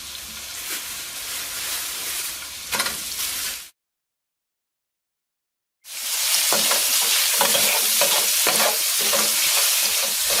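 Prawns stir-frying in a hot pan give off a loud, continuous sizzle with scraping stirring strokes, broken by a few seconds of silence midway before the sizzling resumes at full strength.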